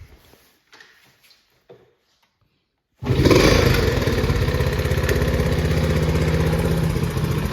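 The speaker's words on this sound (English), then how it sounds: "This bike normally starts on about the first kick. I've got the carburetor, full choke" A 1971 Honda SL70 motorcycle on full choke: a few faint kick-start clunks and silence, then the small engine catches abruptly into a loud, steady, close idle that runs continuously.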